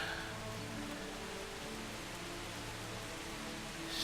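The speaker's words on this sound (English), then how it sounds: "He's training in the rain." Steady, dense rain pours down in the medieval open-world game Kingdom Come: Deliverance, a continuous even hiss with no breaks and no voices.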